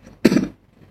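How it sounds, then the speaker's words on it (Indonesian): A single short, sharp cough close by, abrupt and alone against near silence. "batuk"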